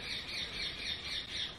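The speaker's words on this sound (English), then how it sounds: "wow, that's a loud bird" An outdoor bird gives a series of loud, repeated squawking calls in a steady rhythm, about five in quick succession, over a light background hiss.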